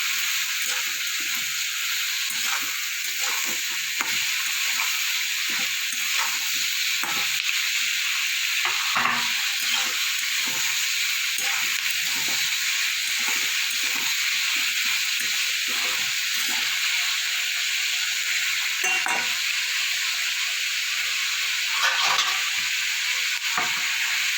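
Potatoes and small mourola fish frying together in a pan, a steady, close sizzle broken by repeated scraping and stirring strokes of a spatula, continuing for a long stretch without speech.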